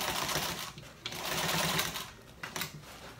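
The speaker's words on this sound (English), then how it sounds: "Now I'm going to sew this bottom piece onto the body" A sewing machine stitches a bottom piece onto a fabric yoga bag, a fast mechanical whirring in a few short bursts with brief pauses between them.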